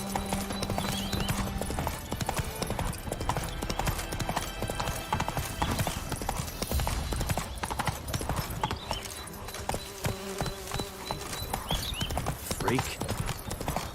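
Geralt's horse Roach gallops in The Witcher 3, a fast, dense, continuous drumming of hooves that runs close and loud throughout, with a brief whinny and bits of spoken dialogue over the top.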